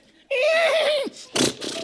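A man imitates a horse's neigh with his voice, a loud wavering whinny lasting under a second, followed by a brief snort-like burst and audience laughter on a comedy show.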